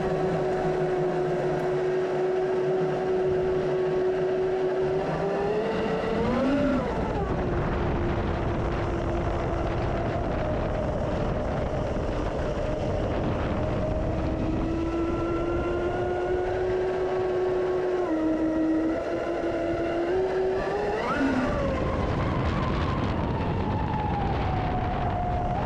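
A Traxxas M41 RC boat fitted with new batteries runs at speed, its steady high-pitched motor whine sustained and loud throughout, rising and dipping in pitch as it turns, with no talking.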